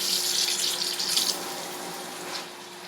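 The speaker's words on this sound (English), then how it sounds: "I'm going to rinse the berries." Tap water pours steadily into a sink to rinse blueberries, a loud continuous splashing stream that eases off slightly toward the end, with no talking.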